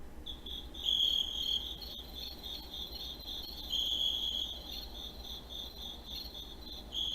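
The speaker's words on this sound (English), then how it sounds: "Here, I have crickets." Recorded crickets chirp in repeated high trilling bursts, fairly faint and steady, over a quiet background with no voices.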